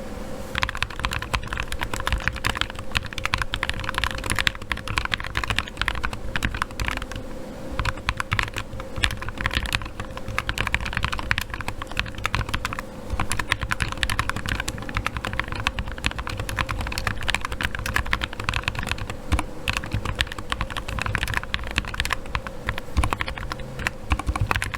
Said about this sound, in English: Now here is a sound test of my modded GMMK keyboard.